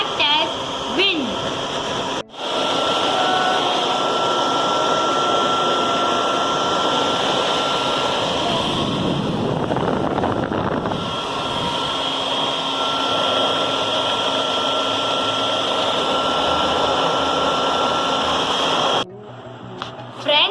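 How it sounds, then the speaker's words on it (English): Fan or hair dryer blowing a strong, steady stream of air at a homemade cardboard windmill, a loud continuous whoosh with a brief dip near the start and near the end. "Start the fan."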